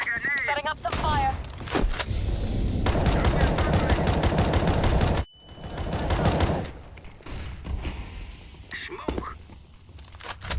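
Video game gunfire rattles in rapid automatic bursts, loud and close, stopping abruptly midway before another dense volley resumes and then thins to scattered sharper shots.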